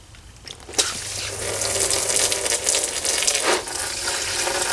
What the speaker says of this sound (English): We'll drain the coolant out of the block.